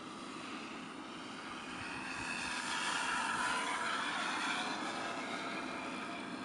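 An RC Texan II model airplane flies at about half throttle, its engine giving a steady, moderately distant drone that swells a little as it passes and then eases slightly, with no talking.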